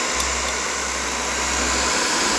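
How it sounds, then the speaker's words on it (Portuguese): A hair dryer blowing onto barbecue charcoal in a grill, a continuous loud airy whoosh with a low steady motor hum, close and uninterrupted. "um secador desse aqui, ó, bem apropriado para secar cabelo de mulher e também para enxugar um carvão desse o mais rápido possível"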